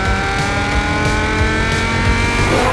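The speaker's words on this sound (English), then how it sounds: "He is in a 5 litre V10 saloon car on some great roads" A 5 litre V10 saloon car drives along open roads, its engine holding a loud, steady, high-pitched drone throughout with no speech.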